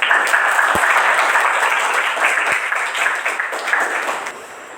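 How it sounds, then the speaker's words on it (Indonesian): An audience at a teacher-training presentation breaks into loud, sustained applause that slowly fades toward the end. "Beri aplaus kepada Trita Inananda."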